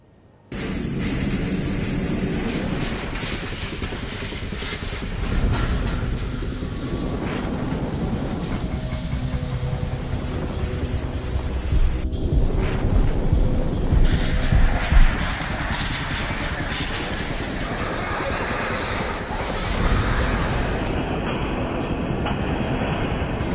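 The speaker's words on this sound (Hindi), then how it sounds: "सबसे पहले दिल थाम कर तूफान की वो डरावनी आवाज सुनिए" Cyclone Nisarga's storm winds roar over Mumbai in a continuous, loud, broadband rush, with gusts swelling and dropping in intensity across the whole stretch and no voices over it.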